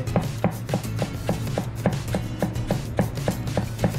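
A kitchen knife chops steadily on a cutting board while preparing tonkatsu, with many even, rhythmic thuds close up and no talking.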